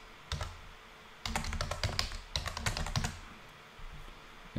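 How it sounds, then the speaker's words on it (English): Close typing on a computer keyboard while entering an AWS S3 bucket name into a Cisco ISE 3.1 repository setup, in two quick bursts of rapid, irregular key clicks separated by brief pauses, with no talking. "So you'll type in ISE."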